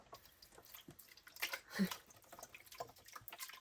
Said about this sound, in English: I have some leftover broth, so I'm just gonna start by putting this in.